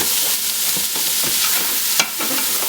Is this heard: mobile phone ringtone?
no